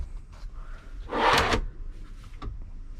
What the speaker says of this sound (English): so we have a pull-out table here